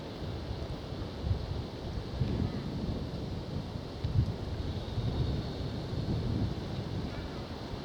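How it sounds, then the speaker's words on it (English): Wind gusting steadily across open ground on a cold countryside circular walk near Westhumble, a rough low rumble buffeting the microphone throughout with slight surges, no voices. "Wind seems to be picking up."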